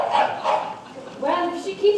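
A dog gives a few short barks and yips amid a domestic scene, the sounds moderately close and fairly soft against a quiet background.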